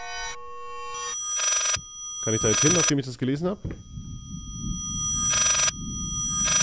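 A telephone rings in the horror game Layers of Fear, its electronic tones sounding in repeated bursts between silences, while someone talks over part of it.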